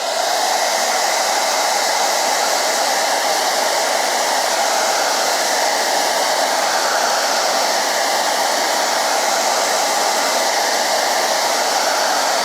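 A dryer blows steadily to dry paint on a ceramic plate, a loud, even, unbroken rush of air running alone without pause.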